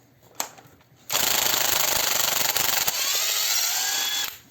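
DEVETECH CIW-500 500 Nm cordless impact wrench hammers loudly for about three seconds in a continuous rapid rattling burst, preceded by a brief click and quiet.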